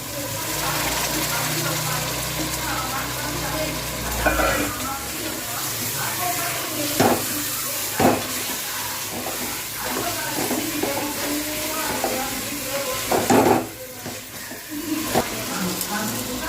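Chicken frying in a pan for homemade chicken biryani: a steady close sizzle and hiss throughout, with occasional clinks and stirring knocks and no talk.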